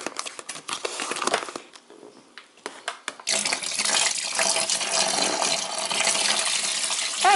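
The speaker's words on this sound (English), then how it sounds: "And we're just going to pour that in." Liquid pours steadily from a home beer-making kit box into a container, a gurgling, splashing stream that starts after a few knocks and handling noises and grows louder and continuous toward the end, heard alone without talk.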